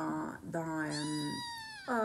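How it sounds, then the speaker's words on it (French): A small cat meows several times in quick succession, drawn-out tonal cries close by with a brief pause between them, heard alone at a low level. "pauvre petit minou, je vais m'occuper de toi."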